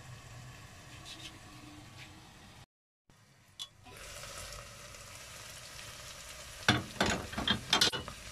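Chicken pieces dropped into a hot pan of stir-fried vegetables, a steady close sizzle and frying crackle with stirring clatter and bursts of louder spattering toward the end, no talking.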